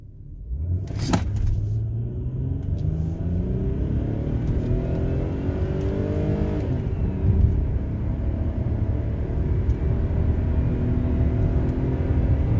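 A high-mileage 2006 Hyundai Grandeur TG Q270 accelerating hard from a standstill, engine note climbing through gear changes over a steady rumble of cabin and road noise, recorded from inside.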